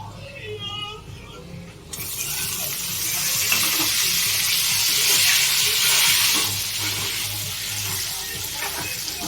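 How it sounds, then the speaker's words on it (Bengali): Spices added one by one and frying in a pan: a quiet start with some brief sound, then a loud, broad sizzle surging in and holding steady before easing off, over a low background hum. "এক এক করে সমস্ত মশলা দিয়ে এখন ভাজা হচ্ছে"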